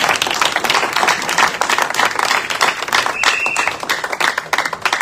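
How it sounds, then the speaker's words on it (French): A church congregation claps and cheers together for the glory of God, with dense, steady applause and crowd voices filling the room, loud and sustained throughout. "acclamons pour la gloire de Dieu"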